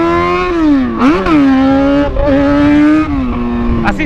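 A motorcycle engine hums steadily with smooth rises and dips in pitch as it is ridden along a dark road, loud and close throughout, with brief voices talking over it.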